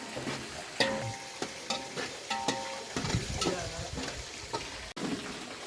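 Biryani with onions stirred in a pot outdoors: a ladle scrapes and knocks against the metal in a loose rhythm over a low bubbling sizzle, close and fairly quiet, with faint tonal clinks and no clear talking.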